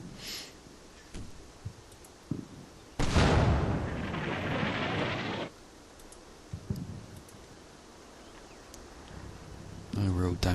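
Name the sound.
mortar rounds landing near target in Combat Mission video game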